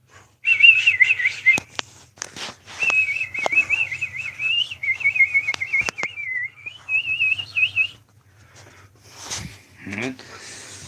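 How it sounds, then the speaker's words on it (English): A pet bird at home gives a long run of bright, warbling whistles and chirps, fairly close and steady for several seconds, then falls quiet as some faint background sounds follow. "There's the bird."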